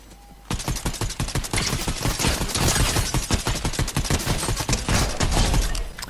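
An overpowered gun in the Fortnite video game fires a loud, rapid burst after a short quiet moment, then keeps shooting in a fast, steady rhythm.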